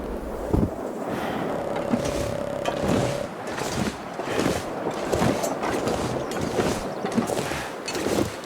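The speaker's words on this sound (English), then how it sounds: "Sounds like a storm's coming in." Storm wind rising in the survival game The Long Dark, a gusting roar with rushing surges and faint creaking, moderately loud and continuous with no voices over it.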